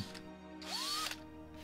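A power drill whirs up in a short burst boring into a small piece of wood, its pitch sliding upward as it bites, then cuts off, close by with no talk.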